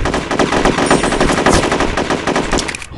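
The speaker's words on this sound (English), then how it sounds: "So I kill him with the AK." Rapid automatic AK rifle fire rattles in a battle royale video game, a loud, dense burst of shots going on for the full three seconds with no voices.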